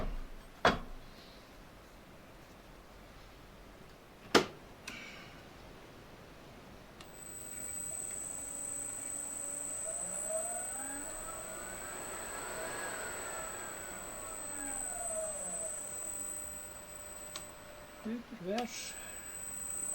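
A Bridgeport milling machine head motor, just fitted with new bearings, spins up after a couple of sharp clicks, settling into a steady high whine with shifting tones, then switching off with clunks near the end; no talking.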